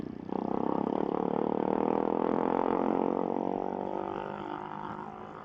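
A motor vehicle with no muffler, its catalytic converter stripped out, roars past at night with a loud raspy exhaust that swells quickly, holds, then slowly fades as it moves away.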